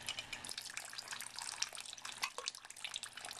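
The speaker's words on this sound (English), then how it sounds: "Water fills up in the float valve container" Water runs into a float valve container, a continuous close splashing trickle with frequent small drips, steady throughout and without any talking.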